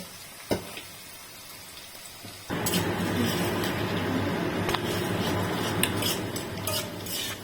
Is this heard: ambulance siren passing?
no